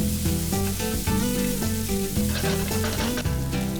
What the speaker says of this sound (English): Then add 3 garlic cloves chopped, 2 green chilies chopped and fry this for about a minute.